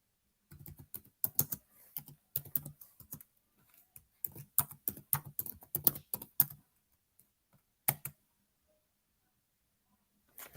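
Bursts of typing on a computer keyboard, quick clustered keystrokes with short pauses between runs, fairly close and clear, no talking.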